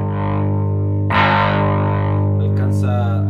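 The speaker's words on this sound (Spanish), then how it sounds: "Alcanza a crear un crunch súper nasal y le da un poco de suciedad a las cuerdas más agudas." Electric guitar played through a ProCo Turbo Rat distortion pedal set to a nasal crunch, a sustained gritty chord ringing steadily, then fresh strums with brighter, dirtier upper strings over a constant low hum.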